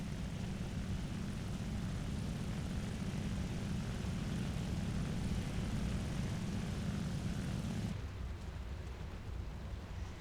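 A roaring, burning propeller plane engine in the video game War Thunder drones steadily and loudly, then its low rumble drops away near the end, leaving a thinner hissing roar.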